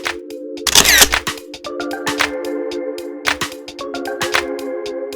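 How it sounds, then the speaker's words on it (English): A camera on a tripod with an ND filter takes slow-shutter shots at the Bandra Worli Sea Link in Mumbai. Several sharp shutter clicks sound close up, one louder burst near the start, over a steady low hum. "Now I'm gonna attach an ND filter and try some slow shutter photography."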